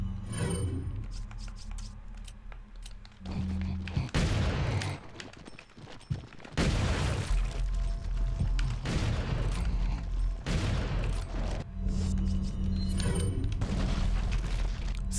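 Gunfire in the video game Resident Evil 4: several loud, heavy shots and booming bursts spaced through the clip, each ringing out over game ambience with no talking.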